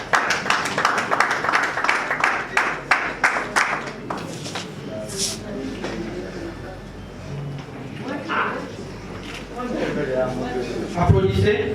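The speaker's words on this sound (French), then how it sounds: "Applaudissez." Audience at an MLC political rally clapping in rapid bursts, loudest at the start and then thinning, with cheering voices and crowd talk running underneath.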